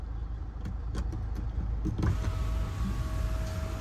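Electric sunroof motor on a 2013.5 Range Rover Evoque SD4 Pure Auto 4x4 whirring open with a steady close hum over cabin noise, a faint tone settling in partway through.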